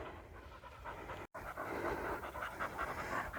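Dog breathing in quick, steady pants on a countryside walk along the Heart of England Way near the Cotswolds, close and continuous, with a brief dropout partway through and no speech.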